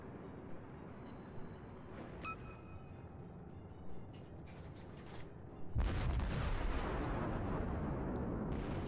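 Distant booming warship gunfire in World of Warships with scattered heavy shots, building into a loud rumbling barrage of explosions in the second half.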